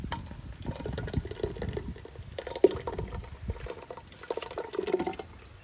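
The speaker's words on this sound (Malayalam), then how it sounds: "നല്ലപോലെ വെണ്ണ പോലെ അരച്ച ഇഞ്ചിയും പച്ചമുളകിൻ്റെയും പേസ്റ്റ് നമ്മൾ ഇതിലേക്ക് ഒഴിക്കണം." Finely ground ginger and green chilli paste poured into curd for spiced buttermilk, giving soft, uneven wet splashes and pattering liquid sounds up close.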